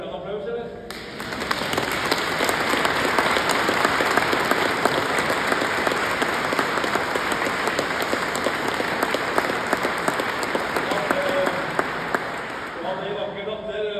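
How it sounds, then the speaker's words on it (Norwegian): An audience at a Norwegian family memorial gathering breaks into sustained applause, a steady, dense wash of many hands clapping that runs for about twelve seconds before fading, with brief talk at the start and end. "Jeg hørte en applaus, eller?"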